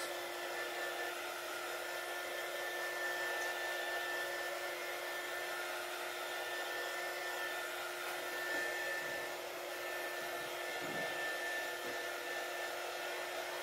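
A hair dryer drying paint gives a steady whooshing hum with a thin high whine, continuous and close, with small faint bumps partway through.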